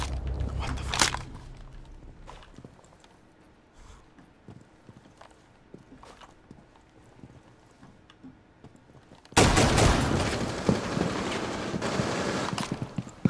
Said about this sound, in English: I shot to see if he would respond